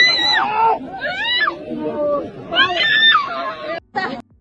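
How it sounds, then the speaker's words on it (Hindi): A woman screams in repeated high, strained bursts amid a crowd at the Kaaba in Mecca, her cries rising and breaking over a background of murmuring voices and chatter. "औरत की चीखें सुन रहे हैं आप"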